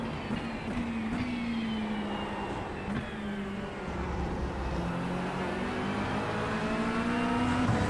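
A Corvette and a McLaren 720S GT3 race in the iRacing game at Le Mans, their engines droning steadily with rising and falling tones as the cars run close together in the draft.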